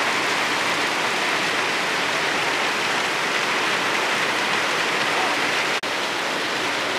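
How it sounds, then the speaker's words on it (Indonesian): Heavy rain pouring steadily over a durian farm, a dense, unbroken hiss that stays loud and constant throughout, with no voices. "Hujan deres guys di kebun Dr. Farm."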